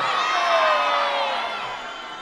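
A crowd at a family day event cheers and shouts for Max Verstappen. Excited voices, many of them children's, swell into a loud burst of whoops and yells, then ease off slightly toward the end.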